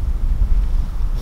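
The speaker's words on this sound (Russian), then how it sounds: "Этот ветер сейчас меня унесет в том числе." Strong wind buffets the microphone outdoors in a vegetable garden, a continuous loud low rumble with gusty fluctuations throughout.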